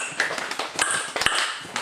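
A group claps hands on their thighs during an exercise, a quick run of sharp, light slaps in an irregular rhythm, close and fairly clear with no talking.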